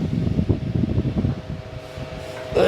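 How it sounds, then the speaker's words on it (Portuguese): Electric fan running in a room during a talk, giving a steady, fairly loud whooshing rumble with rhythmic buffeting, then a brief clatter at the end. "Melhor desligar o ventilador."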